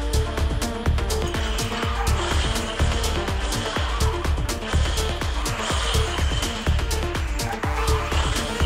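Cars drift and skid in the Garena Speed Drifters racing game, with continuous engine roar and repeated tire squeals, plus rhythmic game effects and music running throughout at a steady, loud level.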